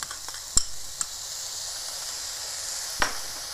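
Garlic sizzles steadily in a hot frying pan, a bright continuous hiss with a few sharp clicks from a utensil against the pan, close and without speech.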